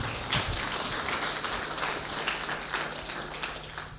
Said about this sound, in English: So clap for yourselves, why not?